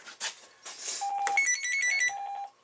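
A telephone rings with electronic tonal beeps in a repeating pattern, fairly faint and alone, in a workshop setting for deer or elk antler repair.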